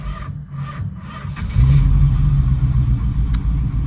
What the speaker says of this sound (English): let's go up and down the street one more time